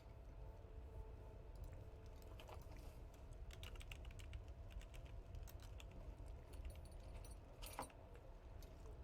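Quiet clicking keystrokes on a computer keyboard, irregular soft taps over a steady low background hum, fairly faint and without talk.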